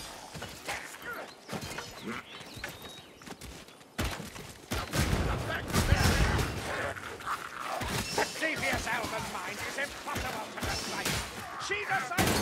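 Gunfire in Warhammer Vermintide, loud rapid bursts through the middle of the clip over a busy game battle, with people talking throughout.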